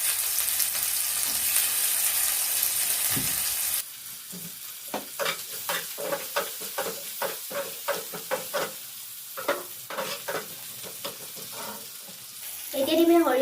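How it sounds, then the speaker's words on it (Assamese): Fish frying in hot oil for an Assamese fish curry with mustard seeds and drumsticks, a steady sizzle broken by close, repeated stirring clatters and scraping, with a brief louder burst of sizzling at the end. "তেল গৰম হৈ আছে মাছ ফ্ৰাই কৰা।"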